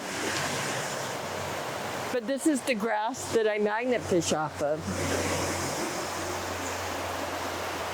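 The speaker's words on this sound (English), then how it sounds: "And this is the river wiping debris upstream." A river swollen by Hurricane Helene flows fast, a steady broadband rush of floodwater throughout, with someone speaking briefly over it in the middle.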